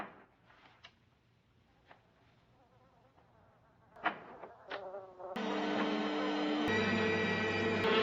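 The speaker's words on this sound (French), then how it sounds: "Il essaye de fermer une fenêtre remplie de mouches" Flies buzz at a window in the film Amityville: faint intermittent insect buzzing with short sharp ticks, then a loud, steady droning hum sets in and continues to the end.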